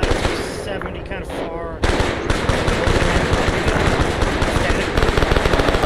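Gunfire in the military game Arma 3: after a brief quieter stretch with a voice, loud, rapid automatic bursts break out close by and continue in dense, repeated rattles to the end.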